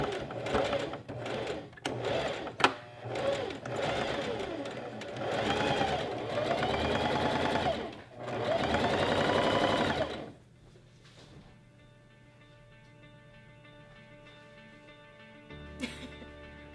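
A sewing machine stitches a 3-inch fold-up hem on a knife-pleat maxi skirt, running in loud, steady bursts with brief pauses, then stopping and leaving a quiet hum with a faint click near the end.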